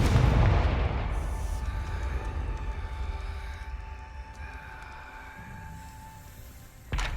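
In Hogwarts Legacy, a Confringo blasting spell goes off as a loud, deep boom that rumbles and slowly fades over several seconds, followed by a sharp thump at the very end.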